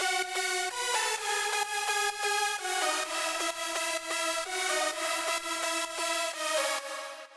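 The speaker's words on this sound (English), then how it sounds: "And this lead sounds like this." A big progressive house lead synth preset from the Harmless synthesizer, layered across two octaves, plays a bright, loud, rhythmic chord-stab melody on its own, cutting off cleanly at the end.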